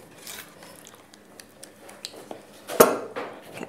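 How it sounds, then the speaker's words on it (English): Egg wash for scones being mixed in a bowl, soft clinks and taps of utensil against the bowl, faint and irregular, with one sharper knock near the end. "So mix that well."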